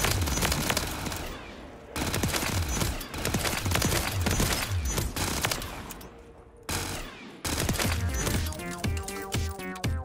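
Rapid automatic gunfire from a video game gun, loud and close, in long sustained bursts with brief pauses between volleys.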